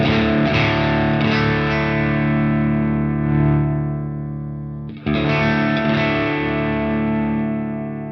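Heavy, high-gain distorted electric guitar on the bridge pickup, driven by a pedal into a Boss IR-2 amp unit, ringing with thick sustained chords, a brief cut near the middle, then loud sustained playing again, with no voices.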